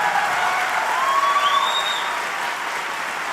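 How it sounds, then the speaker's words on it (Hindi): Audience at a Hindi poetry recital loudly applauding to welcome poet Dr Kumar Vishwas: thick, sustained clapping from a large crowd, with faint whistles rising briefly through it. "जोरदार तालियों के साथ इस्तकबाल करें डॉक्टर कुमार विश्वास"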